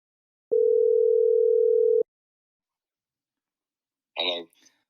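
A single steady telephone tone rings out for about a second and a half when a call is placed, then silence, followed by a brief breathy sound from a person.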